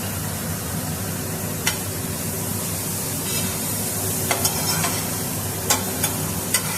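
Cauliflower filling with grated ginger and chili powder stirred and sautéed in a pan over a low flame: a steady sizzle runs throughout, with a few sharp scrapes and clinks of a spoon against the pan.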